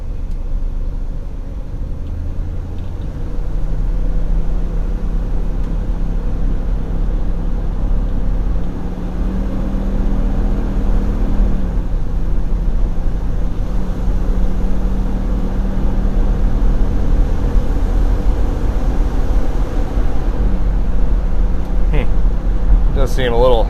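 A 1972 Buick GS Stage 1 runs and pulls away on a part-throttle drive. Its engine drone is steady and loud, rising through gears in long sweeps, with wind and road rumble underneath and a few clicks near the end.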